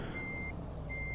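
A Renault truck in Euro Truck Simulator 2 sounds steady, high-pitched reversing beeps over a constant low engine rumble, with two beeps separated by a gap.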